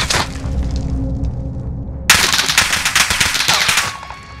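Rapid automatic gunfire from a PPSh submachine gun in the Warzone video game, loud and close: sustained bursts, a brief quieter stretch, then a sudden dense volley of shots that runs for about two seconds before tailing off.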